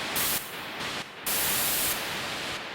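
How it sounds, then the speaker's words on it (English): Bursts of harsh white noise switching on and off, with shifts in brightness as it changes tone. "if you listen to this, is just white noise over time"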